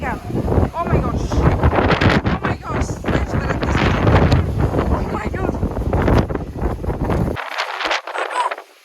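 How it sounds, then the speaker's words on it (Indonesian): Strong wind gusts outdoors in France batter the phone microphone with loud, continuous buffeting and roaring for most of the clip, then cut out abruptly near the end. "Kalian bisa dengar itu angin bunyi."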